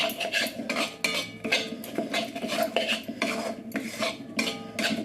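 A spoon or spatula scrapes and clinks against a pan as roasted gram flour is stirred, in quick repeated strokes close by, with no talking.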